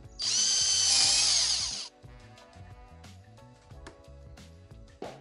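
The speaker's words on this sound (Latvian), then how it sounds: "Urbjam te no sāna caurumu." A power drill bores a hole into the side of a Thule ProRide bike carrier, a loud high whine lasting under two seconds, followed by faint clicks and handling knocks.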